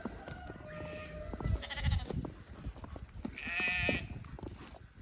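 Sheep bleat loudly at winter feeding with hay, two or three drawn-out calls rising over a background of rustling and shuffling.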